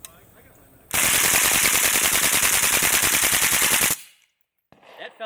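A suppressed AK-pattern RPK fires subsonic ammunition on full auto: one loud, continuous burst of rapid shots lasting about three seconds, then an abrupt stop and a moment of quiet before faint movement.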